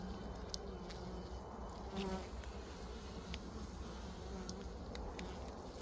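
Honey bees buzzing around an opened hive while feeding on cake in October, a soft, steady swarm hum with individual bees zipping close past now and then.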